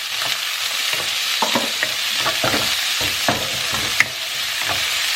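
Garlic and onion fry and sizzle in a paella pan while being stirred, the spoon scraping in short repeated strokes over a steady close crackle.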